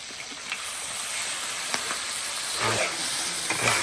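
Chicken heads, feet and wings stir-fried in a pan, a steady loud sizzle and hiss with occasional clacks and scrapes of stirring, close and alone.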